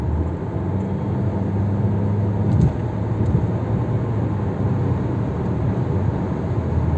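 A VW Golf 7 with a 7-speed DSG gearbox drives along, a steady low engine and road drone from inside with a brief surge and dip around a quick downshift, no talking.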